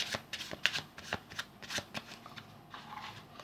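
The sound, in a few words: shuffling a packet of playing cards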